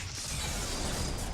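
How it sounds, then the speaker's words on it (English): A door mechanism in a video game grinds and ratchets open, a short, steady, loud mechanical creaking with no talk over it. "Okay, I'll go through this door."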